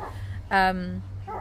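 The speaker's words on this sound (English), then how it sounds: "Oh, it's like fight of the dogs in the morning, honestly. It's who can bark louder." A single loud dog bark rings out amid a morning squabble between dogs, over a steady low background hum with faint voices around it.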